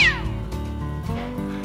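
A cat meows once loudly and close, a drawn-out wavering cry, followed by a tonal, music-like background.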